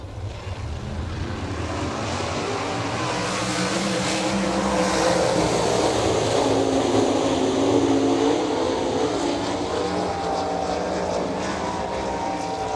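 A pack of 360 sprint cars roars into a Midwest Sprint Touring Series heat race at I-90 Speedway, with a dense, loud, sustained engine drone that rises slightly midway and never lets up. No one talks over it.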